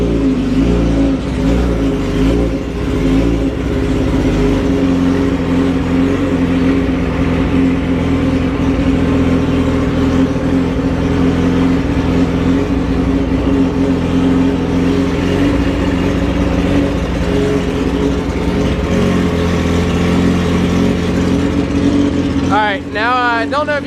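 2007 Yamaha R6 sport motorcycle with its engine idling: a loud, steady, close-up mechanical drone that holds unchanged throughout, with a brief rise in tone near the end.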